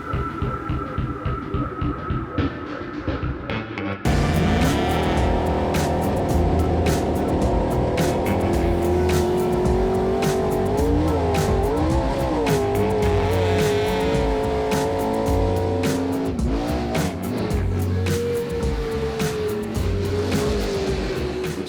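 Race trucks run side by side at Crandon during its 50th anniversary racing. Several engines make a loud, continuous roar, with revs rising and falling as they pass close together, and no talk.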